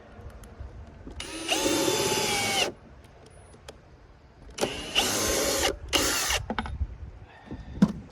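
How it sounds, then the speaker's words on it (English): A power drill whirs into wood in three bursts, one long and two shorter, separated by pauses with light handling noise, during beach stair work. "Trying to drill off where my screw is gonna be, that way we miss each other."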